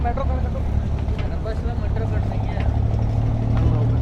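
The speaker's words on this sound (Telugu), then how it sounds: "ఇప్పుడు మళ్ళీ ఈ బోట్ కాడ స్టార్ట్ అయింది" A tourist boat in Dubai starts its engine, and a low, steady motor hum runs under continuous nearby talking.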